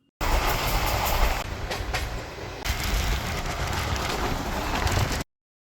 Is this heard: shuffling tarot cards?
no